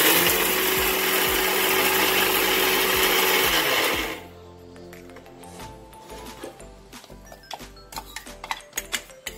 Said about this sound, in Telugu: మళ్ళీ మిక్సీ పట్టుకొని వస్తామండి.